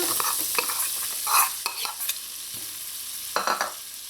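Onions, with hot pepper, fry in warm olive oil in a pot, a close bright sizzle with bursts of stirring and scraping strokes against the pot.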